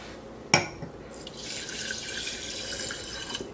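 Water from a tap pours into a measuring cup in a kitchen for cooking, a sharp clink followed by a steady hissing stream that runs for a few seconds before stopping.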